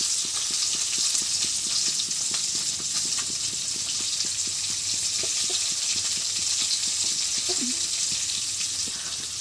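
Fish dropped into a pan of spiced water for a Bengali-style steamed fish dish gives a steady, loud sizzle and bubbling hiss that runs without a break, with a few faint clinks, close and alone with no talk.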